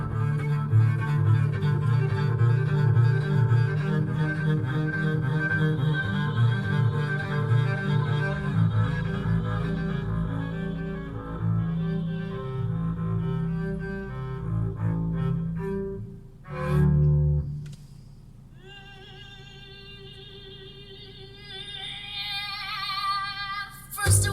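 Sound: music playing through car audio speakers

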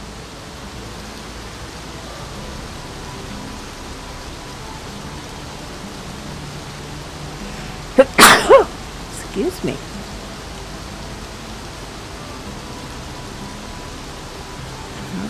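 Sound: rain in video game Xing

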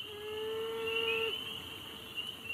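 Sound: male beaver vocalizing, mourning its lost family

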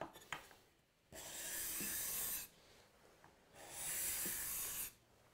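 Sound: hand scraper without burr taking shaving off wood

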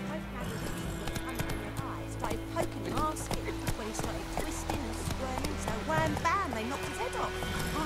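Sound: horse Roach galloping in The Witcher 3 video game

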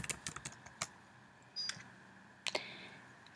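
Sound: typing a password on a Mac keyboard

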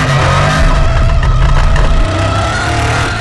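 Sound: 1969 Ford Mustang RTRX V8 engine revving in NFS Shift 2 video game

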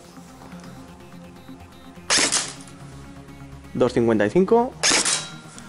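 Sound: Tokyo Marui MP5 airsoft gun firing through a chronograph

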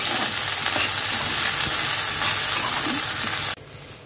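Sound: potatoes frying in oil in a pan

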